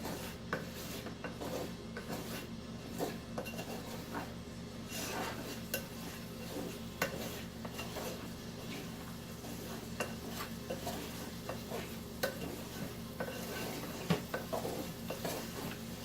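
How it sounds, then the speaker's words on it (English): Sugar glaze sizzling and melting off a peanut-sautéed steak as it simmers in a pan, a steady moderate crackle with soft scraping and clinks of a utensil against the pan throughout. "now you can hear all the sugar melting off of that"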